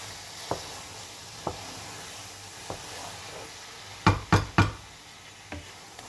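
Grated carrot roasting in ghee in a pan for gajar halwa, a soft steady sizzle broken by a few single knocks and then a quick cluster of three louder spoon taps against the pan, close by.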